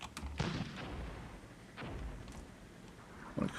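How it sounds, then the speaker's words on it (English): Distant artillery and mortar fire in the Cold War game Armored Brigade II: several deep, booming thuds spaced a second or so apart, quiet and rumbling, with faint crackles between them. "So we have been firing at something at the back there."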